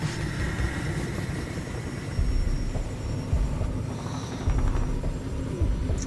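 An airplane flying in a zombie video game, a steady loud engine drone with rumbling low end holding throughout, no talk over it.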